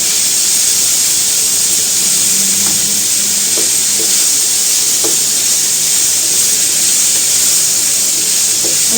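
Onions hit a hot pan for spaghetti bolognese and sizzle with a loud, steady, hissing fry, punctuated by light clinks of stirring, with no talking.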